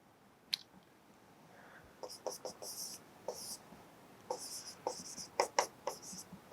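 Marker or chalk strokes on a board during a JEE maths lesson on indefinite integration, a series of short scratchy squeaks in irregular bursts, close and fairly quiet, with no talking over them.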